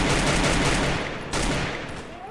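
Rapid gunfire from the Free Fire mobile battle royale game, a dense loud burst of shots filling the first second, then a second volley, with a faint voice underneath.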